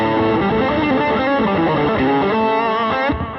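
A distorted electric guitar rings out loud and sustained, with thick overdriven chords and notes that hold steady, then stop abruptly near the end.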